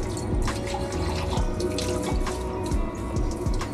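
Tap water streams steadily from a WaterMax RO purifier with UV filter, a continuous close rushing flow with some splashing, flushing out the line before a TDS check.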